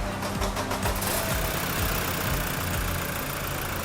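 Toyota Hilux engine running with an unusual noise, likely from the turbo, a steady low rumble with repeated knocking pulses throughout, loud and close, with no talk.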